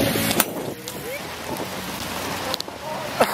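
Hail pelting down hard during a street car event in Adelaide, a dense, steady clatter of impacts with a few sharper hits standing out near the start and end.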